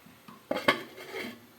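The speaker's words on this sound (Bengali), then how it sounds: "এবার ঢাকা দিয়ে আলুটা সেদ্ধ হতে দেবো" A lid set onto a cooking pot of simmering fish and potato curry, two quick metallic clanks in close succession followed by a faint rattle, quiet otherwise.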